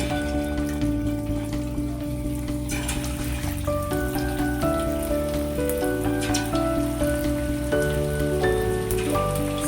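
Chicken pakoda deep-fries in hot sunflower oil with a dense, continuous crackling sizzle like heavy rain, close and steady, with soft tonal background sounds running underneath.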